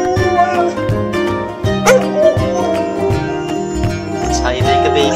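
Pet dog howling beside a crying baby at home, drawn-out wavering howls mixed with whimpering yips, loud and close, overlapping with crying and a person talking.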